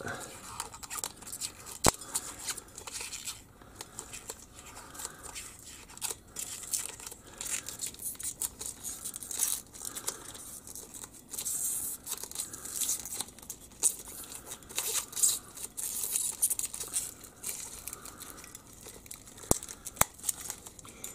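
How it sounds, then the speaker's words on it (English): Bits of protective plastic are peeled and torn off the stainless steel of a pizza cutter kit, with a long run of close crinkling, ripping and rustling. "Let's see if I can get these bits of plastic off."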